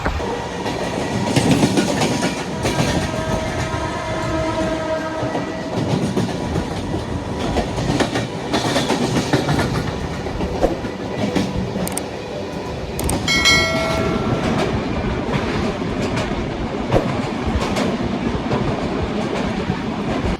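Inside a long-distance passenger train running from Kalyan to Tatanagar, a constant loud rumble and rattle of the carriage on the rails with rhythmic clickety-clack, plus a brief tonal whine partway through.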